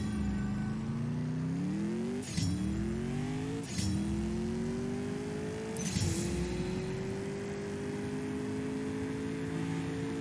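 TVR Sagaris engine in the CSR2 racing game, held on a dyno run with a steady rising drone, broken three times by brief gear-shift dips before the pitch climbs again; loud and continuous, no talk.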